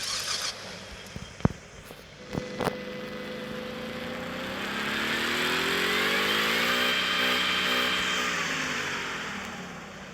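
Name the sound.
Ford F-150 Raptor engine revving on a dyno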